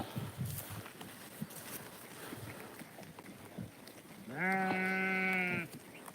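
A single drawn-out bleat from a grazing pregnant sheep rises clearly over a low, steady outdoor hiss, lasting about a second after several quiet seconds.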